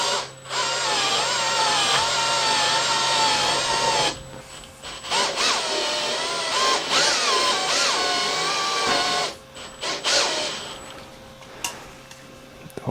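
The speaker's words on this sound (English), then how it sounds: "So we turn it with the drill, just a little bit," An electric drill spins a restored 1962 KTM scooter wheel, whining loudly in several bursts that rise and fall in pitch, separated by brief pauses, with no talk.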